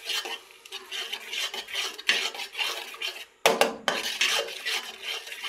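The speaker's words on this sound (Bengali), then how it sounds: "দিয়ে দিলাম মরিচের গুঁড়ি যা ছিল তাই দিচ্ছি আমি, দিয়ে ভালো করে আমি নেড়ে চেড়ে দেব" Chili powder stirred into chicken masala in a pot, with a spoon scraping and knocking against the metal in repeated strokes over a low sizzle and a sharp clatter partway through.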